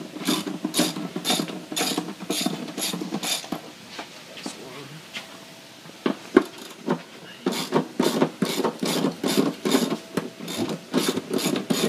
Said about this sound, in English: We have to loosen the bolts on the bottom of the pan that actually holds